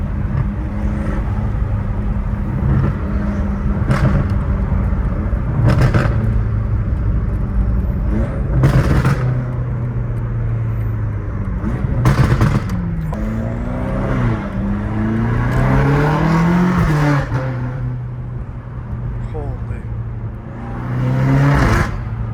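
A BMW M5 Competition revs hard and then lifts off, and the exhaust pops and crackles through repeated bursts. The engine sound is loud and close, rising and falling, and voices come in briefly.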